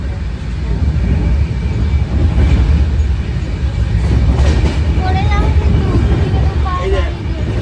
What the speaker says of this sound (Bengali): আমাদের ট্রেন এখন বর্ধমান ঢুকবে